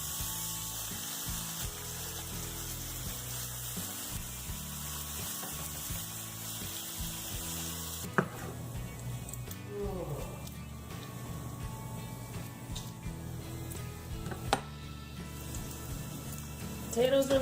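Bacon and potatoes fry in a pan for a breakfast scramble with pepper and garlic, a steady sizzle running under clattering and scraping sounds, with the noise changing partway through.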